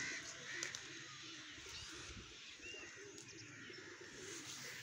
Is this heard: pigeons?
yes